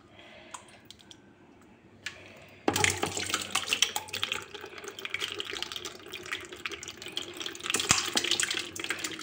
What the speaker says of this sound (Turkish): Şöyle süzüyorum.